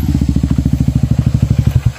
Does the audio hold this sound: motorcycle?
yes